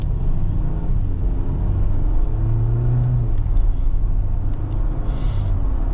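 A steady, loud engine rumble from a 2026 Jeep Wrangler Rubicon driving out of a snowbank, with a low drone and slight changes in pitch, no voices.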